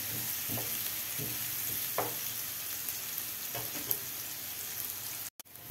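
Onion seasoned with salt and pepper softens in a pan under a steady low sizzle, broken by several scraping strokes of a spoon stirring it, close and fairly quiet, ending with a brief knock.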